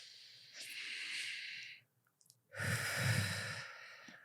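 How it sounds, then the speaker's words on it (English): Slow, deliberate box breathing exercise: a long steady inhale, a pause of near silence, then a fuller, rougher exhale, close and alone without talk. "Let me center myself with some box breathing."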